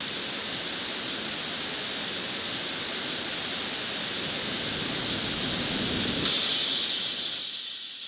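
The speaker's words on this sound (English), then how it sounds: "I gave it some white noise just for like to build tension" A broad hissing white-noise tension riser in a music beat, a swell that builds steadily, then flares brighter near the end before falling away, with no voices.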